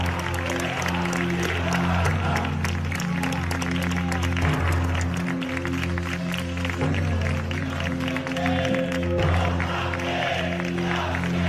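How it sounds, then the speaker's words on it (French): Crowd applauding two hooded men after they lay a flag at a gathering, steady dense clapping throughout, with faint voices and a low rumble underneath. "Applaudis par la foule"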